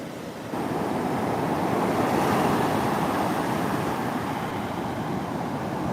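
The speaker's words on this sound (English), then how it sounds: "Look at these waves." Ocean waves at a beach make a continuous loud wash of surf with wind noise on the microphone, a broad steady roar that swells slightly and holds without voices.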